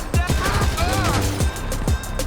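Gunfire in GTA Online on PS5 comes as several sharp, rapid shots in quick bursts, with a voice talking between them.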